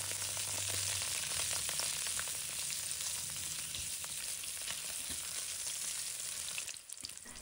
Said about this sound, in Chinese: 倒入食用油，油热之后，把五花肉放入锅中，